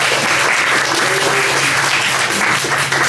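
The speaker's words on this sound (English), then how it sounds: "So let's give her a round of applause." Audience applause at a poetry reading for American Sonnets, a steady, dense wash of clapping from a full room that holds evenly loud for about three seconds with no voices over it.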